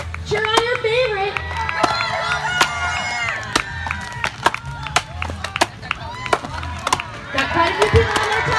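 Axes bite into upright logs during a springboard wood-chopping contest at a Go 4th event, sharp wooden thwacks repeating irregularly from several choppers, with crowd noise, cheering and voices throughout.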